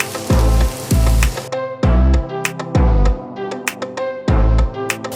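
Cooked, crushed beef with spring onion and celery is sautéed over low heat in a pan: loud, rhythmic spatula scrapes ring against the metal roughly every second over a continuous sizzle.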